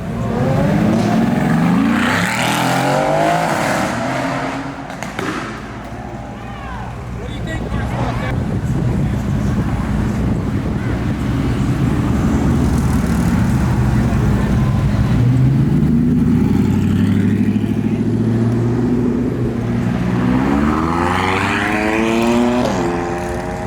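A Lamborghini Aventador SV at a car show, its engine loudly revving in repeated rising bursts with a crowd talking and shouting nearby throughout.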